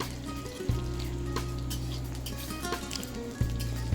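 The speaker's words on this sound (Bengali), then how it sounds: "তাই আমি আগেই ফুলকপিটা দিয়ে দিয়েছি" Large pieces of cauliflower fry in oil in a pan with a soft, steady sizzle and faint bubbling under a low humming background, with a couple of brief clunks, no voices.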